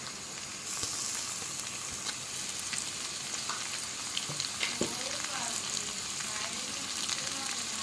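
Tomatoes and fenugreek seeds fry in a pan for a barramundi (bhetki) fish-bone curry, giving a steady close sizzle with a few faint clinks of stirring throughout.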